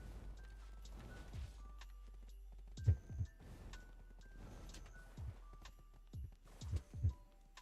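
Horse hooves clip-clopping in a video game, a few soft irregular hoof thuds over a steady low game-ambience hum, with no talk.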